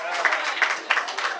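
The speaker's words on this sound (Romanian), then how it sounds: "Aplauze adevărate, ca la publicul de la televiziune." A small audience claps at a vlog launch event, giving a brief, uneven patter of hands that rises and dips over about a second and a half, mixed with voices.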